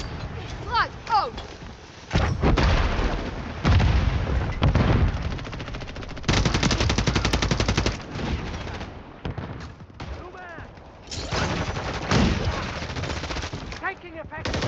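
Video-game gunfire in bursts: rapid automatic volleys, fast machine-gun rattles and single shots alternate with brief lulls, loud and close, with game voices calling out in between.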